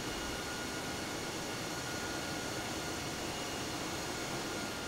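Airliner jet engines in Microsoft Flight Simulator roar as a dense, steady broadband rush that holds at a constant loud level throughout, with no other sounds on top.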